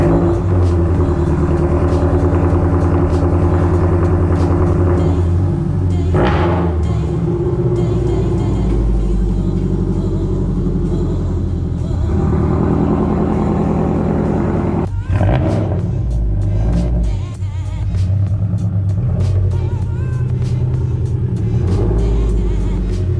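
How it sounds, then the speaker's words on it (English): Toyota GR86 sports car rolling into a garage, its engine rumbling steadily and close throughout, with a few brief revs and shifts in tone along the way. "get the car pulled out into this garage right here"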